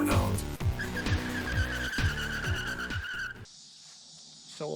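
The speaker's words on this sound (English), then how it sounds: "Burnout." A 2003 Chevrolet Silverado SS performing a burnout, engine revving in loud pulsing surges beneath a sustained tire squeal, then cutting out abruptly into a thinner, high-pitched hiss.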